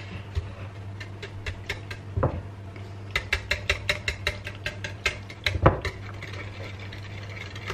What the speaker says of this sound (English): Actually, I'm going to use a whisk.